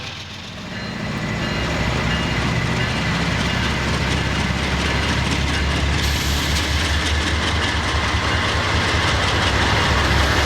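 A steady, loud rumbling model train sound with a faint clickety-clack, building quickly at the start as it pulls away from the engine terminal, then holding constant as it rolls along.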